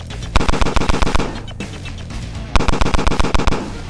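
Two loud, close bursts of rapid automatic gunfire in a first-person shooter set among mystic demons, each a fast rhythmic string of about ten sharp shots separated by a brief pause.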